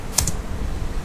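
Two quick, crisp key clicks on a computer keyboard, close and sharp over a low background hum.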